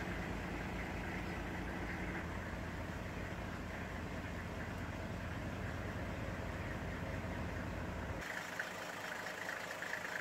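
A car engine idles with the air conditioning switched on, a steady, fairly quiet hum and whir that runs evenly throughout, with the low end dropping away near the close.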